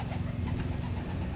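Pigeons coo in a low, soft burbling at moderate distance during a vacation day in Scotland, a brief murmur with no voices.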